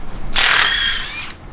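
Power drill backing a Tapcon concrete screw out of block or concrete, a single close whirring burst of about a second with a ratcheting, slightly rising tone.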